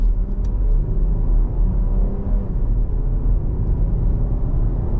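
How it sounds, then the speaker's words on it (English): A 2025 Jeep Grand Cherokee Altitude 4x4 with a V6 pulls away and drives on, its engine a deep, steady, close rumble that holds throughout with no talk over it. "Now we'll take off."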